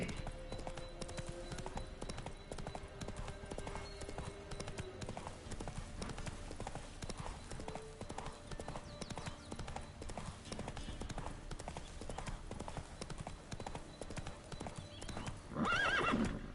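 Roach the horse gallops in The Witcher 3: Wild Hunt on PS5, hooves clip-clopping in a steady fast rhythm under game music, with a whinny near the end.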